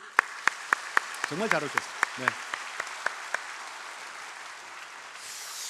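Church congregation clapping to welcome first-time visitors at a Sunday morning service: sparse, fairly even claps, quiet and roomy, while someone speaks over them before the clapping stops.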